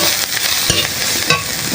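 Nigella seeds with dried chillies sizzling in a little hot oil for jute leaf curry, a loud close crackling fry with brief stirring scrapes and no talking.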